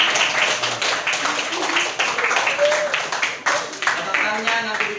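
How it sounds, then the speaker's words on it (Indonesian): Classmates clap in a classroom for a student, a dense patter of hands with other voices mixed in and underneath throughout. "tepukan untuk Kevin."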